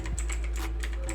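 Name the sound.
typing on a computer keyboard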